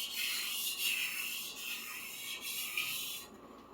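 An old Henckels Twinworks chef knife is drawn along a sharpening stone, giving close, steady hissing scrapes in repeated strokes with brief pauses between passes and no talking.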